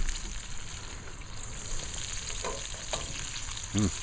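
Meat browning in a hot pan while cooking red beans and rice with alligator, a steady close sizzle and crackle with occasional stirring and scraping noises, no talking.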